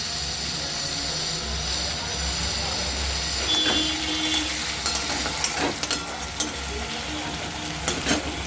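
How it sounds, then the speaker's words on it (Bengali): Onions fry in a pan with a steady crackling sizzle, joined by garlic and scraping, stirring clatter near the end, over a low constant hum from the kitchen. "পেঁয়াজটা অনেকটা ভাজা হয়ে গেছে, এবার আমি বাকি রসুনটা দিয়ে দেবো।"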